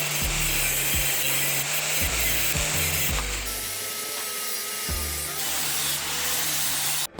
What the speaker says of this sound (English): So I'm just gonna go ahead and cut it right here at the base